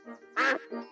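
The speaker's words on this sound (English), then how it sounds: "Oh, it is Mrs. Duck." A cartoon duck, Mrs. Duck from Peppa Pig, gives three short nasal quacks in quick succession, the middle one loudest and brightest, close and clear with no talking over them.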